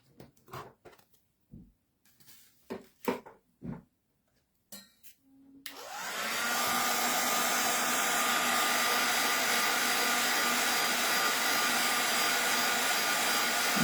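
A heat tool on its lower setting blows steadily to dry a paper quilling craft, a loud continuous whoosh starting about halfway through after a few soft handling taps and clicks.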